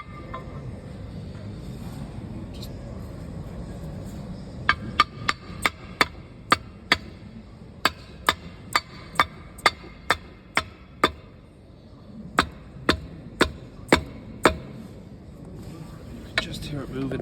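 A worn, leaking Land Rover transfer box intermediate shaft moves loosely in its housing, making a series of sharp, close metallic clicks and knocks in irregular bursts over a low background hum.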